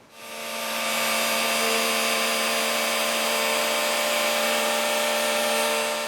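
Decking outside being cleaned, a loud, steady high-pitched whine of a powered cleaning machine that runs unbroken, with a grinding, rubbing texture underneath.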